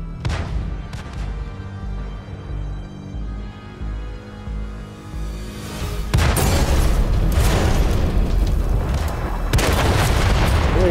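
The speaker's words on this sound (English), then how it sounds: "He must have got wasted by artillery, I reckon." Artillery rounds landing in a tank video game, with a deep, rumbling boom that rolls on in the background, then a sudden heavy blast midway and another sharp impact near the end, loud and close.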